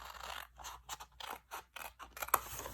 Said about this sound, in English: I'm going to trim up to the 2-inch mark with a pair of paper snips